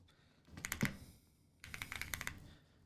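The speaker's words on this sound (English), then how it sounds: "So we'll just type in" Two short bursts of rapid typing on a computer keyboard while entering code for a web-based AR/VR project, the crisp key clicks close and clear, separated by a brief pause.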